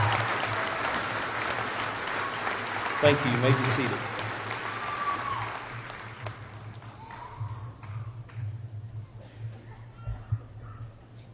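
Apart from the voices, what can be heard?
applause for scholarship-winning graduating seniors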